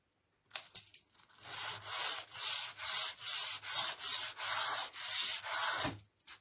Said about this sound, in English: I start sanding real good the back of the shield.